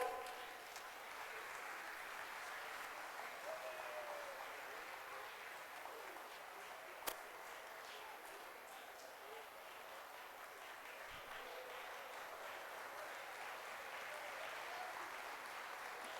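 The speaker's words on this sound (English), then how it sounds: "I request all the parents to clap nicely and appreciate our children." Parents applauding children at a kindergarten event, steady continuous clapping from a crowd that stays faint and distant throughout.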